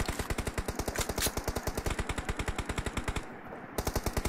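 Gunfire in the mobile battle-royale game BGMI: a loud, rapid burst of automatic fire, evenly spaced shots rattling for about four seconds with a short break near the end. No voices.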